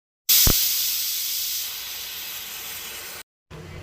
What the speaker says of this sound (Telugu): తర్వాత కుక్కర్కి విజిల్స్ పెట్టుకుందాం